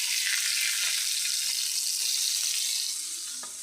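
Cooking oil sizzling in a hot kadai after frying fish: a steady, loud, close hiss that fades slightly toward the end.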